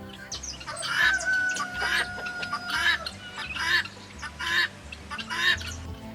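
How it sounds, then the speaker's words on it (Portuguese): Helmeted guinea fowl call in a harsh, rhythmic series of grating cries, about six loud repeated bursts over several seconds, with clucking and other poultry sounds mixed in nearby. "Agora não tem nada que lembre mais a galinha da Angola do que o seu grito."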